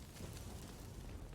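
Bomb explosion in Rogue Company, a low rumbling boom that sustains as a heavy, muffled roar, fairly loud and steady throughout with no distinct onset.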